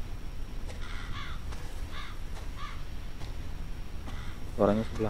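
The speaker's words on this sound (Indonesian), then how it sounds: "Suara burung, burung apa?" A crow caws several times in the Resident Evil 7 game, with short repeated harsh calls spaced through the clip and a louder, closer call near the end, over a low ambient rumble.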